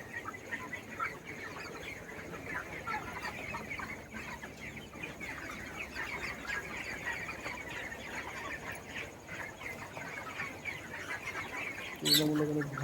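Broiler chickens on a contract farm murmur and cluck steadily in midday heat, a dense, even flock noise running throughout, with a brief louder clatter near the end.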